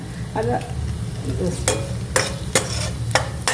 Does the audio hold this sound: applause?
no